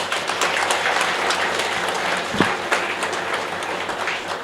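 Audience applause after a call to clap at a skill development training programme event, a steady wash of clapping sustained throughout with a brief thump near the middle.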